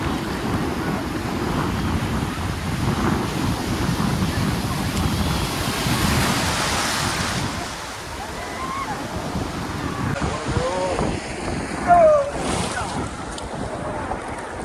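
Ocean surf rolls in steadily at Puri beach under heavy wind buffeting the microphone, a continuous washing roar with a few faint voices in the background.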